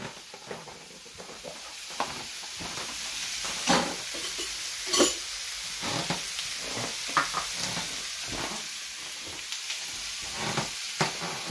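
Onions sweating in a pan for a curry base, a soft continuous sizzle broken by intermittent scrapes and stirring knocks, close and moderate in level with no speech.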